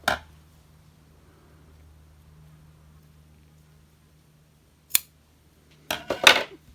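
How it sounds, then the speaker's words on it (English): Scissors trimming yarn tails on a crocheted cabled baby hat, heard as a few brief, close snips near the start and end, separated by a quiet stretch with a low steady hum. "I just like to take those tails and weave them through and trim"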